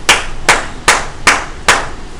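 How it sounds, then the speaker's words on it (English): In a math classroom, five loud, close hand claps ring out at an even, deliberate pace, each sharp and separate, with no talking between them. "Everybody, give Michaela a round of applause."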